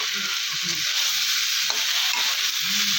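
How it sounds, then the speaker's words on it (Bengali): Morola fish curry with spices sautés in a pan, giving a steady close sizzle with soft stirring scrapes throughout and no voices. "এটা কষে নিক। তো কিছুক্ষণ কষে গেছে।"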